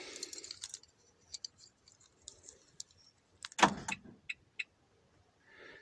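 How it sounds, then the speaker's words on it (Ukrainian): Keys jangle and a few sharp clicks from a 2017 Renault Master III 2.3 diesel van, then a loud clunk of the lock engaging followed by short electronic chirps as the alarm arms, with quiet gaps between. "Можемо навіть поставити на охорону."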